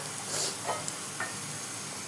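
Thin strips of leftover roti, cut with scissors, fry in a pan with a steady, quiet sizzle and a few soft crackles, with no one talking.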